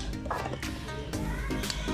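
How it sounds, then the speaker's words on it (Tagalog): Pet pigs outside behind a house make a faint squealing, cat-like cry, heard distantly over low background noise. "maririnig nyo po yung ingay ng aming baboy doon sa labas"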